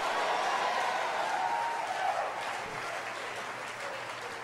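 A church congregation claps hands during a sermon, a sustained even wash of many hands, moderately loud, with a faint raised voice early on.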